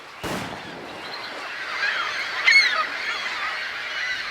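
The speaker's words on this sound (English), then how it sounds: "raising the birds to flight" A sharp pistol shot cracks, then a flock of geese honks and squawks as the birds take flight, a busy overlapping chorus of calls that swells midway and carries on at moderate distance.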